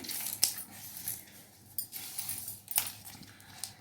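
Scissors cut through dress fabric to shape a low neckline, giving soft intermittent snips and scraping with a few sharp clicks as the blades close, close up and quiet.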